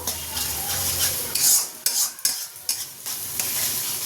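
Spice masala of turmeric, Kashmiri chilli powder, cumin and coriander powder being sautéed in a pan, giving a loud close sizzle broken by several quick spatula scrapes and knocks, with no talking.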